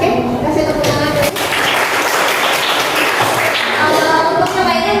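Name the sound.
classroom applause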